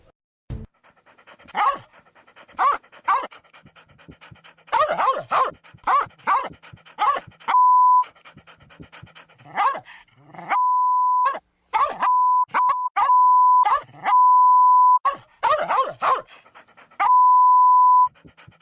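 Dog panting in a radio advert for dog bones: rapid, rhythmic close-up panting in bursts, broken up by repeated steady electronic beeps, with no talk.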